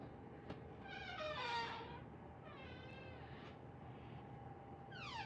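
A visiting cat meows in a ceramics glazing room, several drawn-out wavering calls spaced apart, fairly close but soft over a steady low hum.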